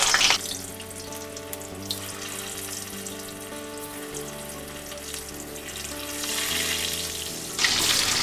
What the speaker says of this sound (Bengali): হলুদ ও লবণ দিয়ে আধা সেদ্ধ করা আলুগুলো প্রথমেই আমি তেলের মধ্যে দিয়ে দেব।